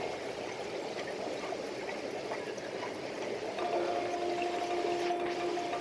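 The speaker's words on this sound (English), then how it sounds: "The water, as you can hear from the background, you know, the pumps and the bubbles." Aquarium water pumps run with a steady bubbling wash of water throughout a large aquarium fish shop, with a faint tonal hum entering midway through.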